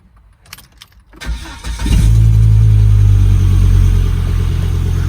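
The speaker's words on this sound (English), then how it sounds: "There's that 5-cylinder turbo noise." A five-cylinder turbo engine in a Volvo V70 Turbo starts and settles into a loud, steady, throaty running rumble, close by, after a few seconds of quiet handling noises.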